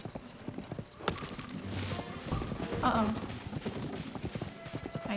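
A horse gallops in a Zelda video game, its hooves giving a fast, rhythmic clip-clop drumming that runs throughout, moderately loud, with a brief whinny and crash partway through and a person briefly speaking over it.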